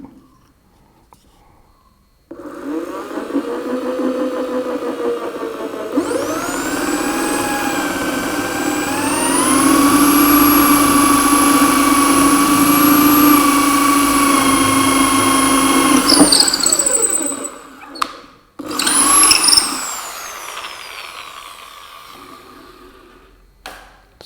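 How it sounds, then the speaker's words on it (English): A Bosch GSB 13 RE corded impact drill drills into wood, spinning up with a loud, steady whine that rises in pitch and holds for about ten seconds before cutting off, followed by a short second burst. "So we drill this"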